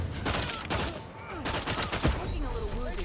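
Shotgun trap firing in the video game Outer Worlds 2, a burst of several loud gunshot blasts in quick irregular succession amid game noise, with a voice talking over part of it.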